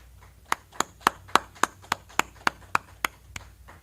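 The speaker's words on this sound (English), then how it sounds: "All right, clap it up." A group at a Tuesday brotherhood gathering claps in unison, about a dozen sharp, evenly spaced claps in a steady rhythm over a quiet background.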